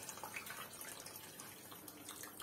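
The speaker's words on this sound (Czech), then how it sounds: "Takhle to zaliju, ať je ta kost celá" Cold water runs into a pot over a soup bone, a soft, continuous splashing pour heard close up and fairly quiet throughout.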